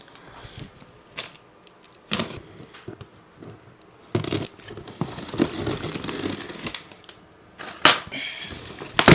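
Irregular bursts of scraping and crinkling as scissor blades snip and slice through a gaming chair's cardboard box, loud and close, separated by short pauses.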